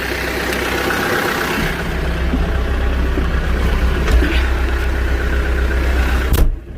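A tractor engine runs steadily at mid throttle in A range while pushing against a dead ash tree, a close, continuous mechanical drone with a sharp clunk near the end.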